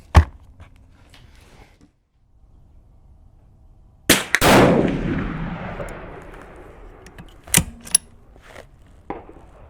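A 6.5mm Creedmoor rifle firing a 147 grain Hornady ELD Match load outdoors at a range: one loud, sharp shot with a long rumbling decay, plus a few fainter distant cracks and clicks around it.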